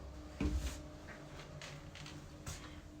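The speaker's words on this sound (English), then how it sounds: "just close this door" A bedroom door in a rented house swings shut with a close thud, then a second soft knock follows a couple of seconds later in a quiet room.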